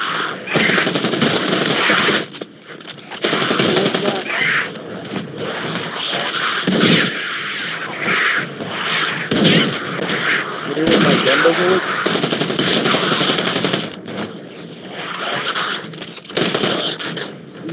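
Rapid bursts of gunfire and shotgun blasts from a VR shooter video game crackle loudly and almost continuously, mixed with other game sounds and voices talking over the action.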